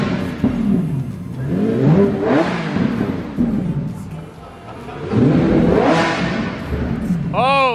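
Lamborghini Centenario with stock exhaust revving hard, two big rising and falling engine surges close by, loud and rasping, with excited voices talking over it.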